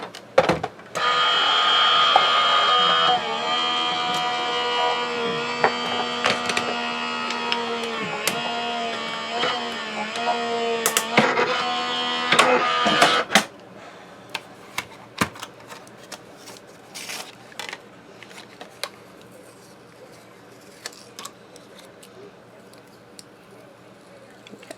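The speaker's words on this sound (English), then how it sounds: "we will run this through the die cutting machine" Die cutting machine feeding card paper through its rollers, a loud steady mechanical whir with tonal hum for about thirteen seconds, then quieter handling clicks and rustles afterward.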